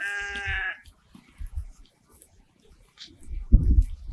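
One clear sheep bleat at the start on a village sheep farm, then quiet shuffling and a few low thumps, with louder rustling noise toward the end.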